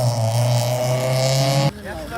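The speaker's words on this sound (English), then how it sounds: "The MX-5 with neons is leaving." A Mazda MX-5 fitted with neon lights pulls away from a car meet, its engine holding a steady drone before cutting off sharply and giving way to quieter background noise.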